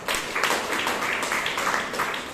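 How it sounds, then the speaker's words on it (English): Steady crowd applause fills a Toastmasters club meeting in Bangalore, a dense, continuous patter of many hands clapping at moderate volume without a break. "Let's have a round of applause for that"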